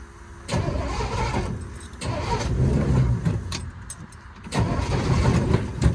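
A Ford Sunliner with a carburetor problem is cranked and its engine catches, running unevenly in close repeated surges with a dip in between before picking up again, with no one talking.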